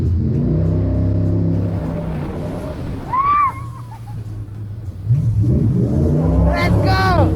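A jetboat engine roars during a 360-degree spin on the Shotover River in New Zealand, a loud steady rumble that dips midway and surges again, with people shouting and squealing over it.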